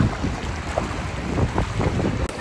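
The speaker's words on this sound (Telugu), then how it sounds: "చూడు వాటర్ ఎట్లా వస్తున్నాయో." Water running through a dug channel outdoors, a steady broadband rush that fills the whole clip with wind buffeting the microphone, no voices.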